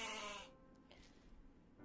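A short goat-like bleat sound effect, a single wavering bleat lasting about half a second, then fading into faint low noise.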